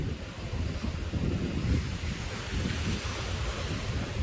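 Steady roar of waves washing in on Botany Bay, Australia, with wind buffeting the microphone throughout; no voices.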